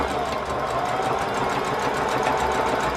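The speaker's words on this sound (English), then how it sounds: "So you're going to go ahead and start sewing" Sewing machine stitching fabric for a tablet sleeve, a steady fast whirring hum running continuously for a few seconds up close, then stopping abruptly at the end.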